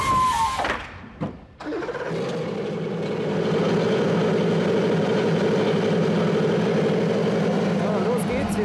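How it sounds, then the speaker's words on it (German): A Porsche 919 Hybrid race car's combustion engine idles at low revs, a steady close rumble that rises and settles after a few short knocks and rustles at the start. "Die normale Maschine lief nur im Standgas."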